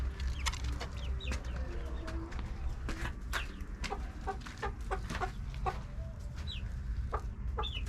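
Chickens clucking and squawking in a coop, many short calls scattered over steady low background noise, moderately near and fairly faint.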